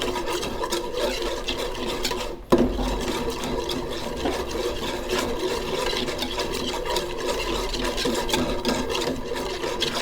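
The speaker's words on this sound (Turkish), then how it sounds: "İyice karıştırıyorum" A spoon stirs homemade sweet-and-hot tomato paste into a pot of barley vermicelli soup, giving a steady close scraping and swishing with one sharper knock against the pot partway through.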